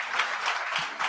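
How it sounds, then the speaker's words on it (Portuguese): Congregation clapping during a church service: a brief, dense burst of applause from many hands, loud and close. "Dê um aplauso legal a Deus."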